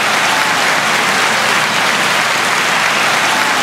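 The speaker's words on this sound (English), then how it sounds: "y'all get a hand clap on that one" A congregation at a church exhortation breaks into dense, continuous hand clapping, loud and steady with no talk over it.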